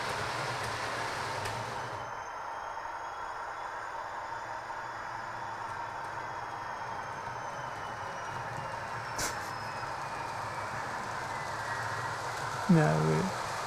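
A model railway train rumbles steadily across a viaduct, its continuous low running noise heard at a distance, with a brief sharp tone near the end.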